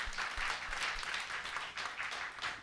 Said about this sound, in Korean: 앞에서 설교하느라고 수고하는 목사님들 박수 해주세요